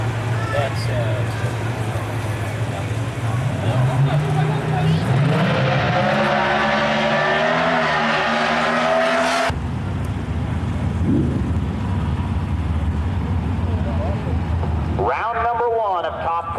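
Drag racing cars at Firebird Raceway, round one of Top Comp: a loud engine drones and then climbs sharply in pitch, cuts off abruptly, and a new engine roar follows, with faint talk over the noise.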